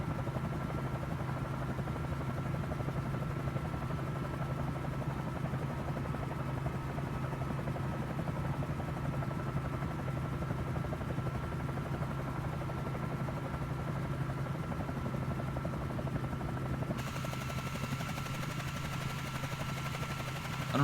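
Bell 47J Ranger helicopter in Microsoft Flight Simulator making a flyby down a runway, a steady droning rotor and engine hum sustained throughout at constant loudness, with a slight tonal shift near the end.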